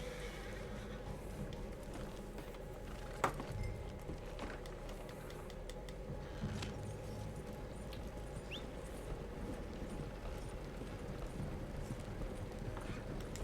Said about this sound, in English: A dang horse just ran right out in front of the wagon.